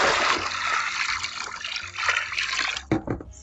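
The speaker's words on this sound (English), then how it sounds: "we're just gonna throw this water away and get a new water." Soapy wash water is tipped out of a basin after hand-washing jeans, giving a close, gurgling pour and trickle with splashy bursts that fades and then ends in a few drips.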